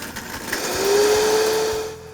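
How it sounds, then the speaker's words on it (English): A Vitamix blender spins up grinding chips with sugar and salt, a steady loud whirring motor whose pitch rises and holds before cutting off near the end. "Put them in a Vitamix. And just to get the blades going, we're gonna take a little sugar and salt."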